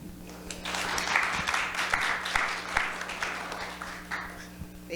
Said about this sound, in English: I wasn't expecting claps